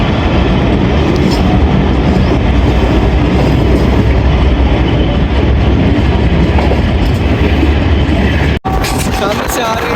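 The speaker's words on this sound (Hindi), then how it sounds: "सामने से आ रही थी 14 डाउन अवाम एक्सप्रेस।" The 14 Down Awam Express thunders past a railcar travelling from Lahore to Rawalpindi, a loud, dense roar of wheels and carriages with clattering rail noise that continues without a break, then briefly cuts and resumes.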